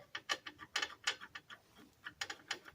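Metal bolt being threaded by hand into a 1998 Ram 1500 truck during U-joint and axle seal repair, giving a run of close, irregular ratcheting clicks and metallic ticks with short pauses between bursts.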